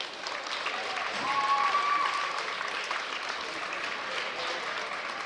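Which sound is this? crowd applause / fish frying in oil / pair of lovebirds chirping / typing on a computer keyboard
crowd applause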